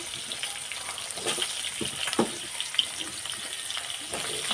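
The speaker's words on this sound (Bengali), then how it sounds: "আলুগুলো আগে একটু লাল লাল করে ভেজে নেব" Potato pieces frying in hot oil in a pan for a Bengali home-cooked dish, giving a steady close sizzle with occasional spatters and stirring clatter, no talk over it.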